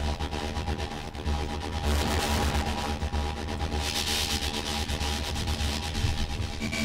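A Dmitry Sches Diversion VSTi synth patch run through distortion, a harsh, gritty, buzzing drone with a steady low hum and crackling, noisy upper layers that swell midway, playing alone without talk.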